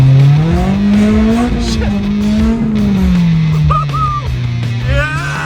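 A car drifting on snow holds a steady, loud engine drone that rises and falls with the throttle, with faint tire squeal near the end; a voice talks beneath it.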